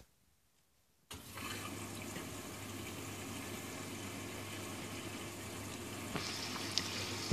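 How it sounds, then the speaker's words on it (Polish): A Polish washing machine with a draining and spin fault begins filling: after a second of silence, water suddenly rushes in with a steady loud hiss and gurgle that continues without talk. "napełnia się wodą"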